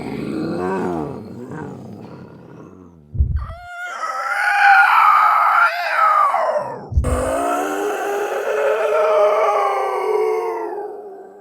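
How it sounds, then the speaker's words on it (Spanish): Human screams processed with effects for film sound design come in three loud, drawn-out bursts, each separated by a deep thud, with a growling, demonic, howl-like tone and heavy reverb. "Escucha cómo suenan los gritos de Whyte cuando les agregas efectos con un editor de sonido para hacerlos más"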